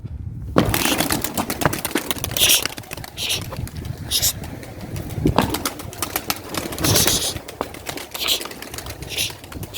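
Pigeons during training, with repeated wing flaps and bursts of fluttering against an outdoor background, fairly close and irregular.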